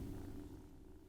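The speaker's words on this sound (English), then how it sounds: "Is she purring?" A cat purrs softly and continuously up close, a low rumbling hum with no other sounds.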